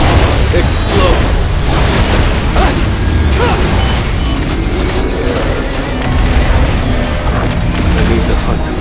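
Heavy explosive booms and crackling blasts from an attack in the mobile action game Solo Leveling Arise fill the space in a dense, loud, continuous wash of game effects.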